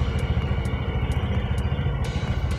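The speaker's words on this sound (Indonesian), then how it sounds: "Kemudian kita coba digas sedikit" A motorcycle engine is revved lightly with the throttle while it warms up, giving a steady, near, pulsing putter that rises slightly and holds.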